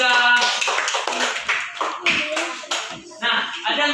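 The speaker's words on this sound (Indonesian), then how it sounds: "Berikan tepuk tangan kepada kelompok 3" A classroom group claps in applause for a student group during a lesson, with a few uneven bursts of hand claps mixed with children's voices and chatter throughout.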